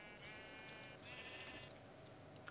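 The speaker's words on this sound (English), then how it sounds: "Get out of my hole, sheep!" Sheep bleating in the Minecraft Tekkit modpack, a steady drawn-out bleat with a tonal, wavering quality lasting over two seconds, at moderate level with a faint click near the end.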